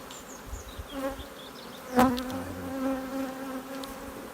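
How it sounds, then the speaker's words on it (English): A steady, close hum of many honeybees buzzing together inside a hive, with a sharper burst of buzzing from one passing nearby midway. "All these workers here are female bees."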